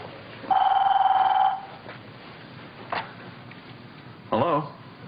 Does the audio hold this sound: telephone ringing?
yes